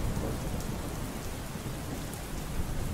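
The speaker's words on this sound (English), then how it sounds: "And it's raining." Steady heavy rain pours in a stormy scene in the video game Skeler Boy, a dense hiss with low rumbling underneath, continuous and fairly close.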